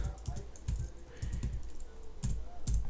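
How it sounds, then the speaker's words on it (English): Keys clacking on a computer keyboard as a search term is typed into a design program, quick bursts of close, crisp strokes with short pauses between them over a steady low background hum. "So I'm just going to go in and type"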